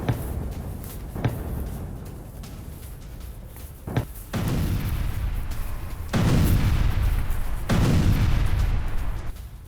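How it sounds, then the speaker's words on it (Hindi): Heavy explosions from Turkish air strikes in Syria, a series of deep booming blasts with sharp thuds and a long rumbling roar that swells louder toward the end, no voices. "बड़ी खबर, सीरिया में तुर्की की भीषण एयर स्ट्राइक्स हुई है।"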